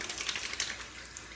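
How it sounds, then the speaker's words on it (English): Tap water runs over a safety razor head being rinsed after a shave, a brief close hiss of flowing water with faint clinks. "Just gonna rinse the head off and then we're gonna hit it with some Alum."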